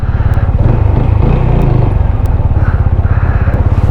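A motorcycle engine idles loud and close with a steady rapid thumping putter at a mountain valley parking spot in North Sikkim, running throughout with slight clattering and no talk.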